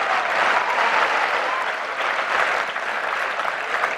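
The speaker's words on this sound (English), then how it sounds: "Thunderous applause there for Darcy." A large speedway crowd at a Poole Pirates Elite League meeting gives a dense, sustained roar of applause that stays loud and even throughout, with no talk over it.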